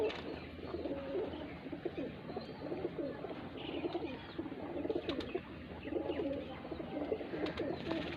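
Pigeons coo in soft, repeated low murmurs at a loft, close by, with faint chirps and rustling around them and no talking.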